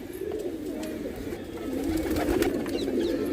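Pigeons coo in a steady, low murmuring chorus, close and continuous, with no talking.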